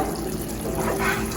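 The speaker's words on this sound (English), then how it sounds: "Don't forget to rinse them with cold water." Cold tap water runs steadily over cooked pasta while it is rinsed in a kitchen during carbonara preparation, a continuous close splashing stream with no talk.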